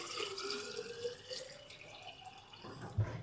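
Water running from a tap, a fairly soft steady stream with small splashes and dripping, ending in a brief knock.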